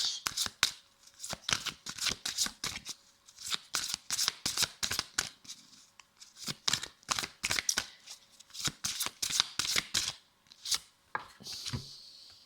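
Tarot cards are shuffled in a rapid run of crisp riffling flicks, close and fairly loud, with brief pauses between bursts and no speech.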